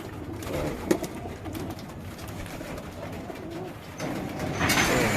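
Racing pigeons coo steadily in a loft, a dense chorus of soft throaty calls close by, with occasional wing flaps and a brief sharp knock amid constant low background noise.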